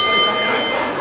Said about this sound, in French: Et la cloche sonne